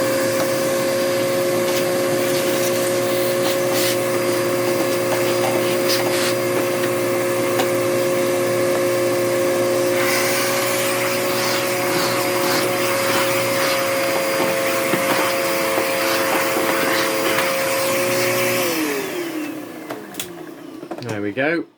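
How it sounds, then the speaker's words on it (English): A canary yellow Hoover Turbopower 2 vacuum cleaner runs steadily and loudly up close, a constant motor whine with airflow hiss, cleaning dust, then winds down near the end. "Yeah, let's give it a quick vacuum."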